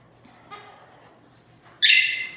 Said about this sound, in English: this is our white-bellied Kaique.